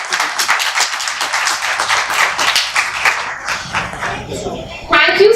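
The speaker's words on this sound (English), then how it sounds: "Clap, guys." Scattered audience clapping at a kids' public speaking talent hunt event in India, a loose patter of hand claps from a modest crowd that thins out before a voice speaks at the end.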